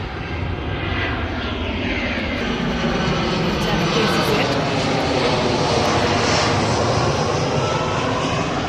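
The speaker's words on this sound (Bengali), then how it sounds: "আবারও প্লেন আসতেছে ওই যে যে আমার বিহাইন্ড প্লেন আসতেছে ওই যে ইজি e জেট আরেকটা আসতেছে" An easyJet airliner flying past close to an airport, a loud, steady broadband engine roar that fills the whole clip, with a person talking over it.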